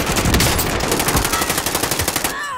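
Gunfire in a battle royale video game, a loud rapid burst of automatic shots in an even fast rhythm that runs for about two seconds before cutting off.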